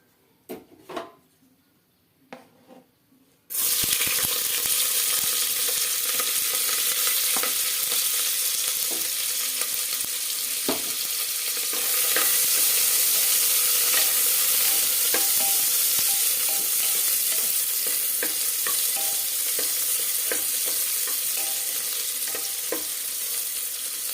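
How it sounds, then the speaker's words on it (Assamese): Chopped onions dropped into hot oil for sambar, a quiet start with a few clinks, then a sudden loud, dense sizzle that holds steady, with occasional utensil scrapes and stirring close by. "তেল গৰম হোৱাৰ লগে লগে আমি আমাৰ কাটি থোৱা পিয়াজখিনি দি দিম"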